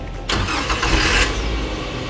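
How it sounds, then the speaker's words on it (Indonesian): A campervan engine, unused for months, cranks and catches with a sudden roar, then settles into a steady idle hum nearby. "sekarang kita mau tes dulu, dengarkan suara mesin"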